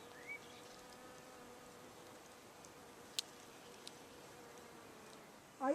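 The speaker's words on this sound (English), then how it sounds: "That is a bee on a cistus flower." A bee working a cistus flower on a trail near Mystra in Greece's Peloponnese, its faint steady buzz drifting through quiet outdoor air, with a couple of brief clicks.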